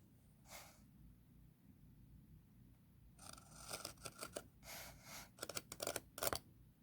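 A marking knife drawn lightly across wood, one faint scrape, then a series of quick, crisp scratchy strokes in bursts, close and quiet with no talking.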